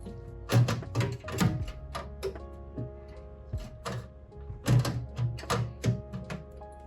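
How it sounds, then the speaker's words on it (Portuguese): A screwdriver drives screws to fix a motherboard into a gaming PC case, giving quiet clicking ratchet-like ticks in short bursts, close and faint, with no talking. "E agora é só encaixar perfeitamente a placa-mãe ali, nos buraquinhos, e parafusar."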